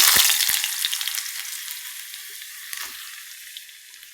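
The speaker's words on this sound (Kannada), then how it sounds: "ಇವಾಗ ಫ್ರೆಂಚ್ ಫ್ರೈಸ್ ಥರ ಕಟ್ ಮಾಡ್ಕೊಂಡಿರೋವಂಥ ಆಲೂಗೆಡ್ಡೆನ ಹಾಕ್ಕೊಳ್ತಾ ಇದ್ದೀನಿ" Potatoes cut into French fry strips dropping into hot oil and frying, a loud burst of sizzling at first that settles into a steady, slightly fainter crackle with a few soft knocks.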